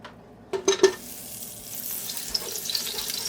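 Butter dropped into two tablespoons of hot oil in a pan, a few quick clunks followed by a rising, steady sizzle, close and clear with no talking.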